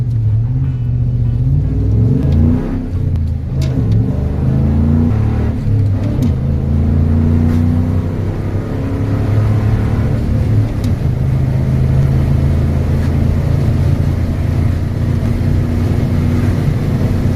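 A nitrous-boosted car makes a quarter-mile run: a loud, steady engine roar with rising revs and rumbling low end, sustained close by throughout with no talk.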